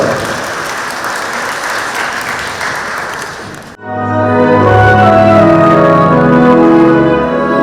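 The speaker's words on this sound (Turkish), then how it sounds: "Alkışlarınızla" Audience applause for the singer at an evening concert, loud dense clapping for several seconds that cuts off abruptly as music begins.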